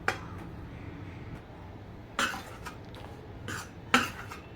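Wheat flour roasting over low heat in a pan is stirred, giving soft scraping with a few sharp clinks of the spoon against metal at close range, and no talking.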